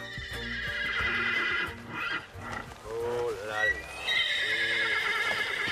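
A horse neighs and whinnies loudly at close range, several rising and falling calls in a row, with snorts and hoof sounds between them.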